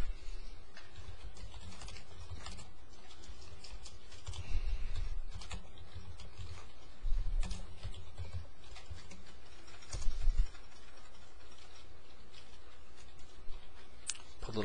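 Typing on a computer keyboard while entering text into a small graphical homepage editor: steady, close key patter running through the whole stretch with a few louder bursts of keystrokes, no speech.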